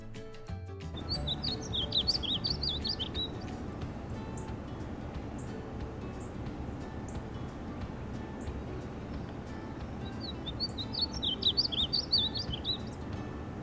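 Painted buntings sing in the wild in two bright bursts of high chirping warble, one near the start and one near the end, over a steady low background hum.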